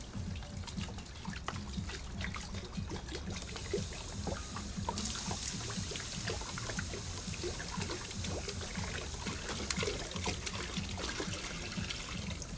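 Water trickles and splashes steadily into a new metal kazan cauldron, a soft continuous pouring sound heard at low level without voices.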